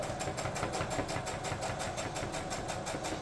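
A sewing machine stitches a folded strip of fabric for a hair scrunchie, giving a steady, fast, rhythmic mechanical whir with no talking.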